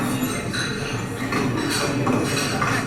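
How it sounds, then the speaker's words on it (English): Busy outdoor cafe ambience: a murmur of background chatter with faint clinks of dishes and cutlery, steady and diffuse. "Or you have an open-air cafe,"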